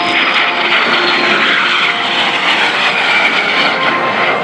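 A de Havilland Vampire jet roars steadily at an airshow at NAS Oceana. The engine noise is loud and continuous and holds a broad, even rush throughout, with no voices over it.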